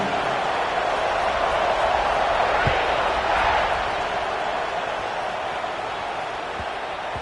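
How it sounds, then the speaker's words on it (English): A big football stadium crowd roars just before a kickoff in a tight fourth-quarter game, a broad, sustained wall of cheering noise with a couple of dull thumps. "this crowd now ready to get behind them"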